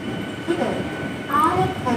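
A passenger train travels in Kerala, with a loud steady rumble and rattling inside the carriage and brief metallic squeals. Faint voices sit underneath.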